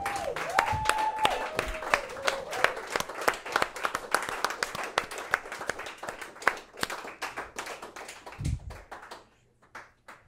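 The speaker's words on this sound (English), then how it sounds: "Please give a big round of applause for David Eden." Studio audience applause for guest David Eden on a talk show, dense clapping that starts strong with a brief musical tone at the opening, thins out and fades to a few scattered claps and near quiet at the end.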